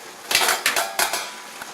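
Glass jars for strawberry jam lifted out of a boiling water bath, giving several clinking, rattling knocks of glass against metal and each other in quick irregular bursts, close and fairly loud with no talk.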